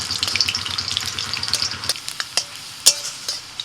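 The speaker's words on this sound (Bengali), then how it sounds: "এবার রসুন ভেজে নিচ্ছি" Garlic fries in hot oil in a pan with dried chillies, giving a steady crackling sizzle under sharp stirring clinks and scrapes, close and moderately loud.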